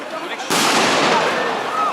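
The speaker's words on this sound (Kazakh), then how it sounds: "Бомба жарылды." Bomb explosion during a street protest in Barcelona, a single sudden loud blast followed by a sustained roaring rush of noise, with faint crowd sounds before it.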